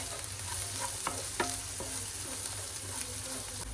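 Spiced onion filling for Rajasthani pyaz kachori is stirred in a sizzling pan, with a steady low fry hiss and a few scraping spoon strokes, no talking.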